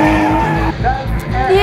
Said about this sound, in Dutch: Dat heet een burn-out.